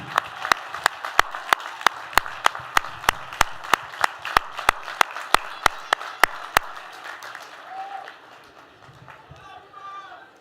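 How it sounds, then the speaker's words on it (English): Crowd applause fills a university commencement ceremony while one nearby pair of hands delivers sharp, evenly spaced claps over it. The applause fades after about seven seconds and gives way to faint voices. "graduates, let's give them a big round of applause"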